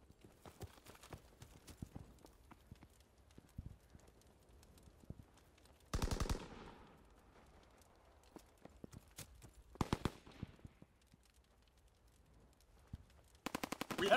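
Automatic gunfire in Call of Duty: WWII, with several loud sustained bursts around six, ten and fourteen seconds standing out from quieter scattered shots and battle clatter.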